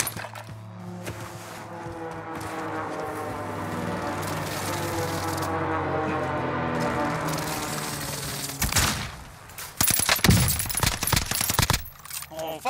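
Video game gunfire aimed at an enemy: sustained rapid shooting under a droning hum, then sharper scattered shots and clatter near the end.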